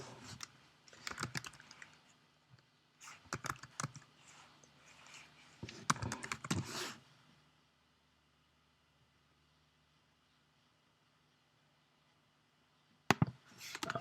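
Bursts of typing on a computer keyboard while filling in an online funding application form, clusters of close clicks separated by pauses, then a long quiet stretch and a final short burst of keystrokes near the end.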